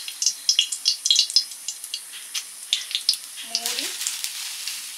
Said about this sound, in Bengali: বিউলির ডাল সেদ্ধ হয়ে গেছে, ফোড়ন দিচ্ছি।